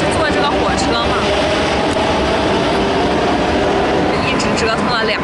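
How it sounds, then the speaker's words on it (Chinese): Riding a passenger train in Barcelona: a dense, steady rumble and rushing roar of the moving carriage fills the whole stretch, loud and close, with faint voices and occasional higher squeals over the noise. "我们现在是坐这个火车嘛"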